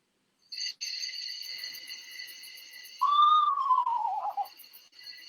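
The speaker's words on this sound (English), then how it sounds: "That is the sound of an eastern screech owl" An eastern screech owl calls nearby: a long, steady trill held for a few seconds, then a descending horse-like whinny that slides down in pitch before fading, with a brief quiet gap at the start.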